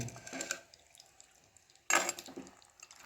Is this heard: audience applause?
no